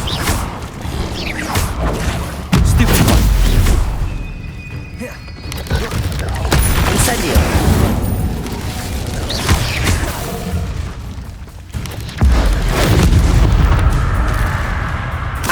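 Spell effects and explosions burst in rapid succession during Hogwarts Legacy combat, loud booms and crackling blasts with mechanical clatter, mixed with shouted incantations.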